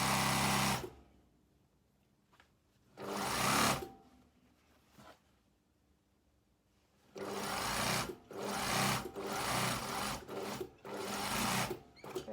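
A sewing machine stitches the side seam of a box blazer, running in several loud bursts separated by quiet pauses, with a longer run of rapid stitching near the end and no talking.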